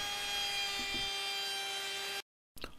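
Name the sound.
milling a wooden pulley with a router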